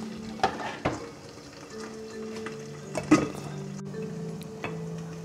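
Tilapia fries in hot oil in a home kitchen, a soft continuous sizzle with several sharp pops and spatters and a faint hum of the stove underneath.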